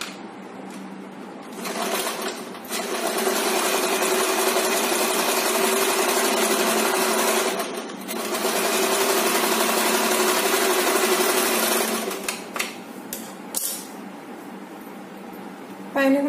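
A sewing machine runs a double stitch on chudidar gathering pants, whirring steadily and loudly through long runs with brief stops. A voice speaks over parts of it.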